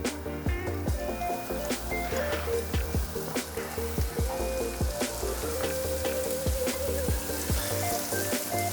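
Salami and garlic sizzle hard in a pan on high heat, a loud continuous crackle with frequent sharp pops and spits, close and busy from start to finish.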